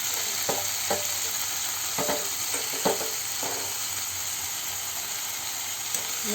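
Lightly fried paneer is stirred in a hot, sizzling pan, with a constant loud hiss and crackle under a handful of sharp spoon scrapes and taps spaced irregularly throughout. No one speaks.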